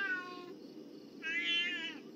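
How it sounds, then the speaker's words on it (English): A ghost cat pet from a Halloween event in a video game gives two short, clear meows, the second one longer, with a quiet gap between them. "an adorable ghost cat"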